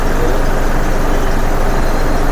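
Dense festival-season road traffic at MVP junction in Visakhapatnam gives a steady, loud wash of engines, trucks and buses that rumbles on without a break.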